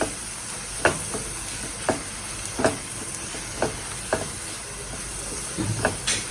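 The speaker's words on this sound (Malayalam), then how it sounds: "ഇനി മസാലപ്പൊടികൾ ചേർത്ത് കൊടുക്കാം എന്നിട്ട് ഇതിൻ്റെ ആ ഒരു പച്ച സ്മെല്ല് പോകുന്നവരെ ഒന്ന് വാട്ടി കൊടുക്കുക" Spice powders sautéed in oil while cooking a prawn roast: a steady soft sizzle and hiss runs throughout, broken by several sharp scraping taps of a spatula against the pan at irregular intervals, close by with no talk.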